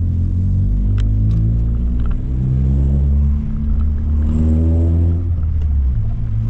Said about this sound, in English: Exhaust echoing off the buildings.